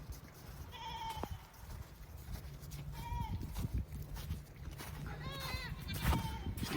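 Goats on a farm in winter, several wavering bleats from different animals spread through the stretch, fairly close, over rustling hay and shuffling noise.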